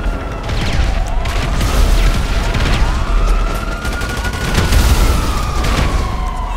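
Dense, continuous gunfire with armor-piercing rounds in GTA Online, loud rapid bursts overlapping throughout, with rising whining tones sweeping beneath the shots.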